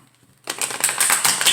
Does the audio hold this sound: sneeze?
no